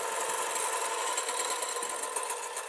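An electric mixer whips egg whites for a chile relleno batter with its speed turned down, giving a steady, close, even motor whir with a bright buzzing edge and no voices.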